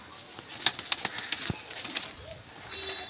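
Pigeons in a loft, a flurry of wing flaps and scuffling with soft calls, several sharp bursts close by over a quiet room tone, fading to a steady faint hum.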